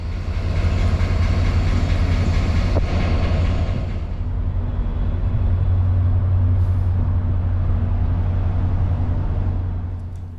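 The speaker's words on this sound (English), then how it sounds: "Powering our train is one of the FrontRunner MP36PH-3C locomotives, dating back to 2007" Steady low rumble of an MP36PH-3C diesel commuter locomotive from 2007, with a constant engine hum, a loud continuous drone that eases slightly midway, no voices.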